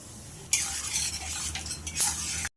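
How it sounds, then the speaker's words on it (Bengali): Peanuts frying in hot oil in a pan for a vegetarian Bengali cabbage dish, a steady close sizzle with stirring and scraping noises that starts abruptly and runs for about two seconds before cutting off. "এবারে এই তেলে কিছুটা বাদাম আমি ভেজে নেব"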